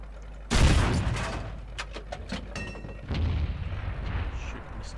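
M56 Scorpion tank gun firing in World of Tanks: one sudden loud boom, followed by rumbling echoes, clanks and a second burst of heavy rumble.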